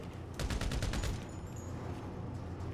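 Rapid burst of in-game gunfire from GTA Online, a quick volley of shots in the first second or so, then dying away into a low background rumble, with no talking.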